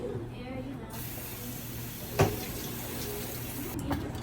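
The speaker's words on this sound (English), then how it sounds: "I'm just gonna rinse that." Food is rinsed under a running kitchen tap, a steady, close spray of water with a couple of short splashes as it hits the food.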